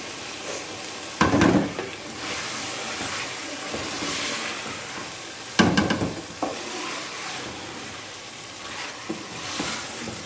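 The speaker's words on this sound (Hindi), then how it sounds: "चिकन के साथ ही इनको हमने भूनना है" Chopped cauliflower stems and chicken fry in a pan with a steady sizzle, broken by two louder bursts of stirring and scraping, without talk.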